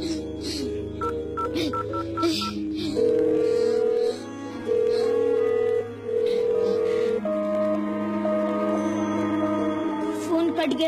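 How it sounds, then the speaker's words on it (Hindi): Telephone dialing tones, then steady ringing-line beeps in several stretches before the call cuts off abruptly; faint voices underneath. "फोन कट गया शारदा जी।"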